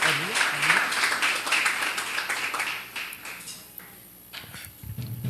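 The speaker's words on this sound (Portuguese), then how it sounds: "Por favor, desocupe a sua mão e aplauda Jesus, glorificando ao nome dele" A church congregation applauds, a dense burst of clapping that fades out over a few seconds, followed by a brief voice.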